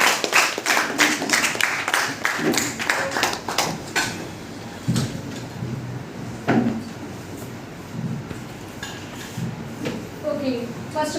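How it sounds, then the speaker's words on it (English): Scattered hand clapping from a small group at a school inter-class debate competition, sharp uneven claps strongest early and thinning out, with some murmur and room noise underneath. "Please give them a big round of applause."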